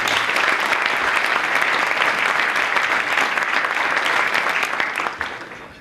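Applause from a conference audience for the sponsors, a dense, loud burst of many hands clapping steadily for several seconds before tapering off at the end.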